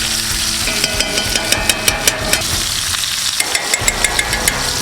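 Steaks in cast iron pans, Finex and Griswold skillets, frying hard in clarified butter with garlic cloves, a loud steady sizzle with rapid crackling pops and spits running throughout, close and without voices.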